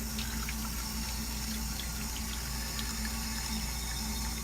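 Warm water runs steadily from a tap into a sink while a makeup brush is rinsed, a continuous even hiss and splash with no talking.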